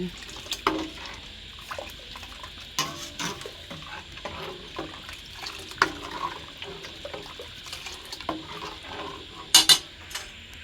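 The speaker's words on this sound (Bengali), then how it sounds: "আমি এখানে সেমাই রান্না করতেছি লাচ্ছি এই যে সব মশলা দিয়ে দিলাম" Lachha semai vermicelli cooks with spices in a pot, with scattered spoon clinks and scraping against the metal over a low steady hiss, and a brighter clatter of utensils near the end.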